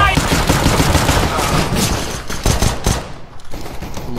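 Dense video game gunfire, a fast run of rapid overlapping shots heard up close that thins out into scattered bursts toward the end.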